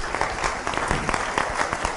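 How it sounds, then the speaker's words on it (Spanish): Audience applause at a leadership talk, with brisk, dense clapping from a crowd filling the whole short moment at a steady, fairly loud level. "Un aplauso para ella, por favor."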